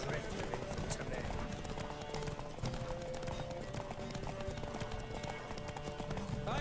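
A horse gallops in The Witcher 3 video game, rapid clip-clop hoofbeats under a busy mix of game sound and voices.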